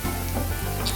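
Sliced onion sizzles loudly in hot oil while being stirred in a pan, a close continuous frying hiss with a brief scrape, and no voices.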